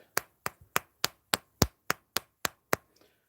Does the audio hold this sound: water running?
no